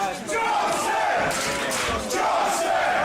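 A crowd at a live wrestling match roars and shouts in a sustained, loud swell, voices yelling together with a brief dip before rising again.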